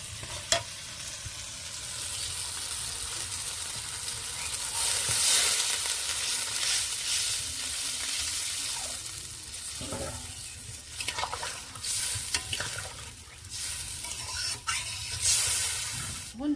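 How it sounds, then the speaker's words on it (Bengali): Pomfret fish curry gravy cooking in a pan, a steady close bubbling sizzle with occasional stirring scrapes and soft splashes that swell and fade over many seconds. "ঝোলটা ভালো করে ফুটিয়ে নেব"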